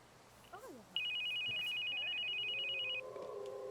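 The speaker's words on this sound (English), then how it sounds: "I got a phone call coming in." A phone rings in The Sims 2 on PSP, a steady electronic trill held for about two seconds, loud and close, with brief game sounds before it and a lower tone at the end.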